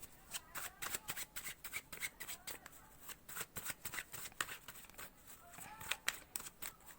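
Tarot cards are shuffled by hand in a rapid series of crisp riffling bursts, quiet and close, with soft speech in the background.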